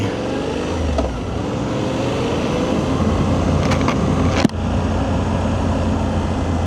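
Suzuki V-Strom 800 (2026) motorcycle climbing a twisty mountain road to Doi Suthep, Chiang Mai, its engine droning steadily and loud with wind rush throughout, one brief sharp knock midway.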